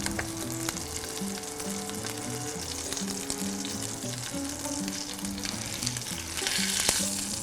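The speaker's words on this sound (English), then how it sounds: "See, the skin's crisped up. Some nice colour on there, sizzling away." Chicken breast, skin side down, sears in a hot pan with a steady, close crackling sizzle that runs throughout and swells slightly louder toward the end.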